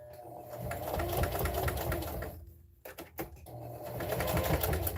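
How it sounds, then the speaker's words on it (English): Sewing machine running a straight stitch on a fabric mug rug, a loud steady mechanical whir close by that pauses briefly with a few clicks, then resumes. "Sewing all the way down."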